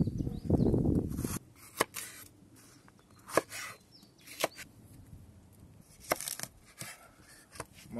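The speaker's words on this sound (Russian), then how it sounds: "Болгарский перчик нарежем" Sharp knife taps on a cutting board as a bell pepper is cut into cubes, irregular and fairly close, preceded by a brief rustling noise.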